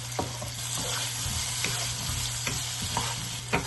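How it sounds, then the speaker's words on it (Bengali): Carrots and potatoes sautéing and sizzling in a pan, with a steady fry hiss and regular scraping stirs of a spatula, close and fairly quiet with no talk. "প্রথমে আমি দিচ্ছি গাজর আর আলু। এটা 2-3 মিনিট একটু কষাই নিব"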